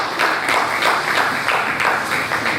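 Audience at the Anatomical Society of Nigeria annual scientific conference applauds its president as he returns to his seat, a steady hall-wide patter of clapping in rhythmic swells, fairly loud and close.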